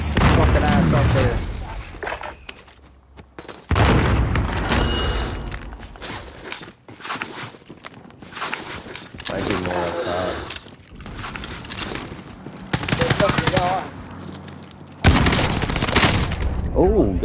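Rapid bursts of video game gunfire crackle and boom in repeated volleys across a firefight, loud and close, with excited players talking over much of it.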